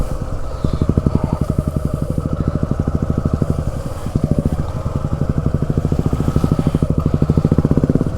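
An adventure motorcycle rides over rough terrain, its engine thumping in a fast, steady pulse that stays loud and close throughout, with faint rattles and no talk.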